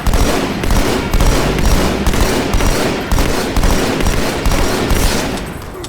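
Battle rifle fire in the video game Halo 2 Anniversary, heard as loud, close, rapid bursts that repeat in a steady rhythm throughout with no pauses.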